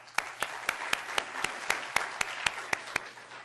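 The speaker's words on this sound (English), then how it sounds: "Please give yourself a round of applause." Applause from an audience at a moot court competition final round, a steady wash of clapping with one sharper, evenly spaced clap standing out nearby throughout.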